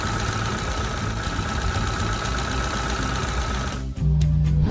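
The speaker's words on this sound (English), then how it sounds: "You can see that the engine is running very smoothly now." A car engine, just repaired, idles smoothly with an even, continuous drone up close, and the tone shifts slightly in the last moments.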